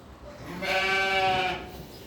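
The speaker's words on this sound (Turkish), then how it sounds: "Bunlar doğan kuzular bakın siyah." A single drawn-out bleat from a newborn black-headed Suffolk lamb on a farm, close and clear, lasting about a second over quiet background.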